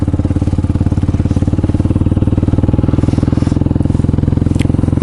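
Motorcycle engine running close to the microphone with a loud, steady low putt-putt pulse, regular firing throbs and light mechanical clatter on top, unbroken for the whole stretch.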